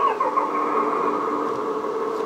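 Simulated engine rumble from the sound module of a LESU AOUE 9150 Liebherr RC hydraulic forwarder runs steady and close at a constant idle-like pitch, with no other sounds.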